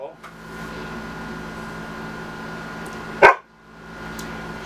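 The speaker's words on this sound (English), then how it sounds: "I'm getting interrupted by my puppy dog" A puppy gives a single sharp bark indoors, close by, breaking through a quiet room with a low steady hum of air conditioning.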